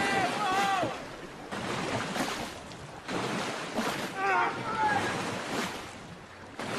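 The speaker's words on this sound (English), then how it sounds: "Rowing neatly then through the first stage of this race." Oars pull a rowing boat through the water in the London 2012 Olympic video game, with steady splashing and wash under crowd or voice sounds that rise and fall.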